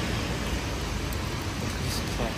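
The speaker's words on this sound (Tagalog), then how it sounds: "Ang lakas ng ulan." Heavy rain pouring in a city street in Prague, a loud continuous broadband wash of water close by, steady with no clear individual drops.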